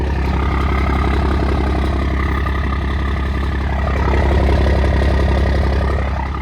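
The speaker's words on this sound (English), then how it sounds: "So let me fire this thing up for you and let it idle for a little bit." A first-generation truck diesel engine idles after an instant start, a steady, loud low rumble with a rhythmic knock that holds evenly, swelling slightly midway, with no talking.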